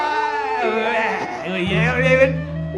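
A puppeteer's voice imitates a goat bleating during a Balinese wayang wija shadow puppet show, a long wavering nasal bleat held close to the microphone over a steady low gamelan drone.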